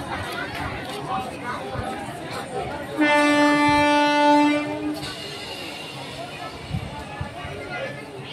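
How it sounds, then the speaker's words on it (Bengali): A local train passes through a small rural railway station in India, its horn blaring loudly for a couple of seconds amid rumbling wheels and platform crowd chatter, with voices talking nearby. "এখানে সব লোকাল ট্রেন চলে, এক্সপ্রেস ট্রেন জানে, যেমন লোকাল ট্রেনটা দেখাচ্ছি,"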